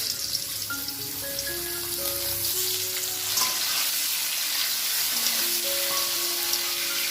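Cauliflower florets fry in hot oil with a steady, dense sizzle and faint crackling pops throughout, while thin tonal music plays softly in the background.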